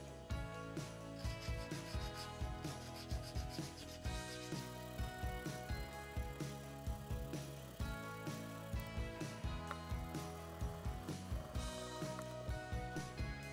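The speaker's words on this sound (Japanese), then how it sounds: "こういったダイヤモンドヤスリで地道に削るしかないです" A diamond file works the blades of a pair of nippers with steady, repeated rasping strokes in an even rhythm, close and fairly quiet, with no one talking.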